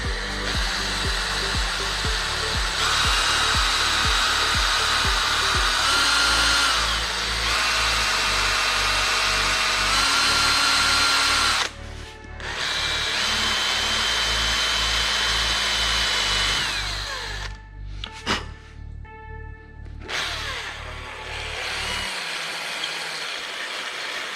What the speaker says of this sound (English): ain't nothing to it, just to drill it